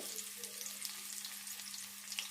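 Mustard seeds, cumin and onions fry steadily in hot oil, a dense continuous sizzle with small pops and a low steady hum underneath, no voices.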